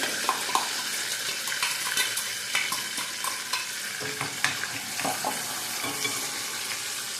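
Spiced masala for a soybean dum biryani sizzles and fries in a pan, a steady crackling hiss broken by small pops and the occasional scrape of stirring, close and moderately loud with no talking.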